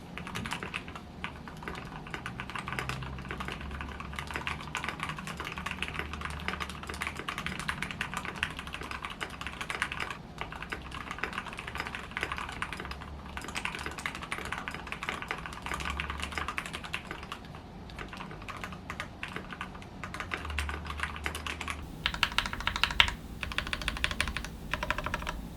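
Steady, continuous typing on an RK84 Pro budget custom mechanical keyboard, with dense, even keystroke clacks that run close and clear throughout, with no talking.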